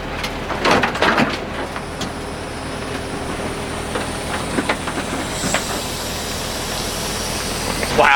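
A 2024 INEOS Grenadier engine runs with a steady hiss-like drone close by, with a few louder bursts near the start and a light voice in the background.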